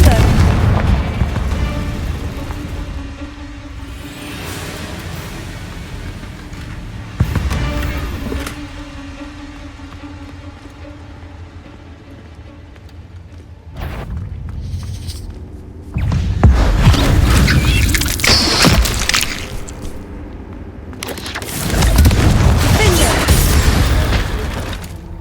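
Confringo blasting spell explosions in Hogwarts Legacy, loud booming bursts layered over a constant rumbling game soundscape, with several swelling blasts rising and fading over the stretch.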